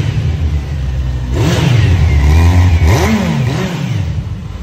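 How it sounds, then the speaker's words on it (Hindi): A heavy superbike, apparently a Ducati Monster or Kawasaki in Thailand, revs hard right after a push start, its engine climbing and dropping in several loud, close throttle blips. "सो गाइस, अब धक्का मार के स्टार्ट हुई है ये गाड़ी,"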